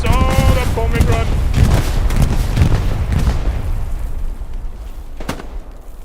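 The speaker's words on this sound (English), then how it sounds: "Now, bombing run coming in." Bombing run in the Hell Let Loose video game: a rapid cluster of heavy, deep explosions rolling together, loud and close at first and fading toward the end, with a brief tonal game sound early on.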